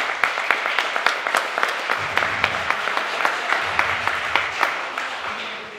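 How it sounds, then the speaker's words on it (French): A conference audience applauds after an evening talk against the No Billag initiative, a dense spread of clapping with distinct sharp hand claps standing out near the listener, steady throughout. "je vous demande de les applaudir tous les deux"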